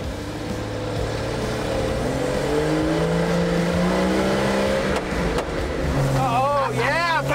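A 1964 Ford F350 one-ton flatbed truck pulls away, its old engine droning low and steady with rising tones as it shifts and accelerates, heard up close under people talking in the cab.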